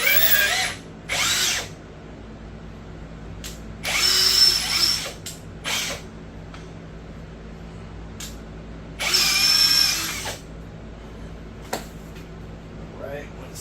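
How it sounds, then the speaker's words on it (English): A power drill reams out a larger hole while modding a Dodge Durango SRT, coming in three or four loud close whirring bursts separated by pauses, with short quieter runs and a voice speaking nearby. "We're going to take our ream to the larger hole."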